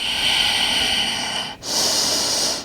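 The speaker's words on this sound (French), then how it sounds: "Puis expire vers l'arrière." A long, steady breath pushed out through the nose and mouth during a yoga core exercise, breathy and close, with a brief pause before a second, sharper exhale begins.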